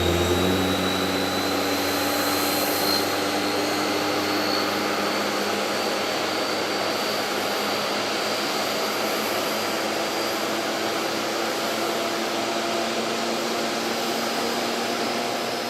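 A Boeing jet's engines start up in cold temperatures, producing a steady loud whine and roar with a sustained high-pitched tone over broadband rushing noise, constant throughout with no talk.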